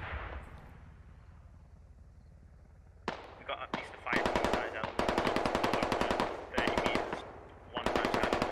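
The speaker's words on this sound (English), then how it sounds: "Uncle Niner throwing rounds up the hill here" Machine gun fire in the military shooter Squad, long loud rapid bursts separated by brief pauses, following a quieter stretch at the start.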